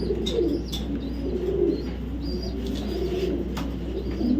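Racing pigeons coo repeatedly at close range, low throaty rolling calls overlapping one another, with a few faint chirps and brief wing flutters mixed in.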